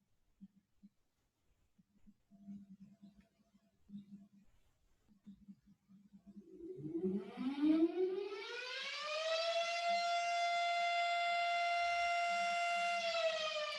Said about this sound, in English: By the grace of God, the alarm sounds before Shavasana.